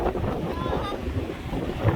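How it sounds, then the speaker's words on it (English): Steady wind buffeting the microphone in Shenandoah National Park, a low broadband rumble that persists for the whole stretch with no clear talk over it. "Whoa, it's so windy."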